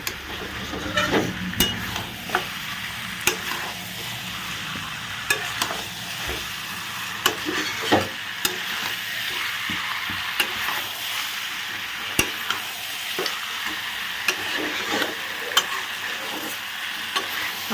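Mutton frying in a pan with raw tomato during kosha, stirred continuously: a constant close sizzle with frequent scraping clacks of the spoon at irregular intervals.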